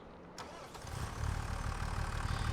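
A tractor engine cranks and starts in a farming video game, a brief click followed by the engine catching and settling into a loud, steady idle rumble.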